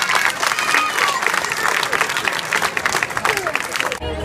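Loud, sustained clapping from a crowd at a prize-giving in Sardara, Italy, continuous for several seconds before cutting off abruptly near the end.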